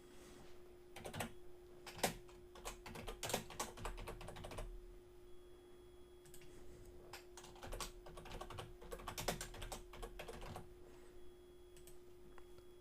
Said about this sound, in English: I'm going to just type in a fake address.